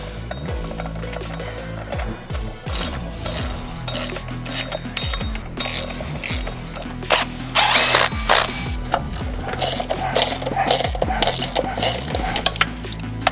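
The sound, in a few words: ratchet tightening E14 bolts with a socket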